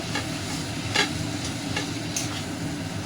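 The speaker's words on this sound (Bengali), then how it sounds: "আস্তে আস্তে করে মশলার সঙ্গে কচুর শাকটা আমরা মিশিয়ে নেব।" Boiled taro leaves stirred into a spice mix in a hot oiled pan, a steady oily sizzle under a few soft scraping strokes of a spoon, close and continuous with no talking.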